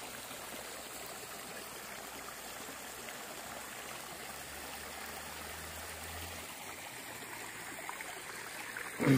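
The Mangkel river in Landak, West Kalimantan, flows steadily with a soft, continuous rushing and trickling, even and unbroken for the whole stretch, with no voices over it.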